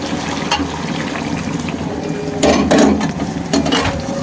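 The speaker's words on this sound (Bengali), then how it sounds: "দিয়ে দেবো সামান্য গরম পানি" Hot water is poured into a cooking pot of chicken roast, a steady close splashing and gurgling pour with sizzling underneath, swelling louder briefly midway through.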